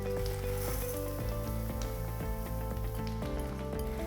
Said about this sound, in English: And we're just gonna saute for a little bit.